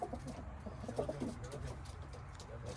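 Soft, low coos of tumbler pigeons and their young repeat close by in a loft over a hum of background noise, with no clear talking.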